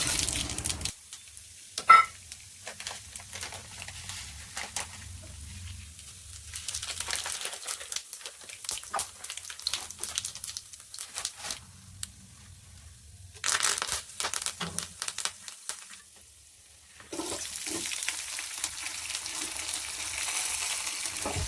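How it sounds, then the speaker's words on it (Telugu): Potato fry cooks in a steel pan, with a continuous close sizzle broken by stretches of scraping and stirring, the frying hiss swelling louder at intervals and running steadily toward the end. "పొటాటో ఫ్రై అయితే త్వరగా అయిపోతుందని చెప్పేసి చేస్తున్నాను"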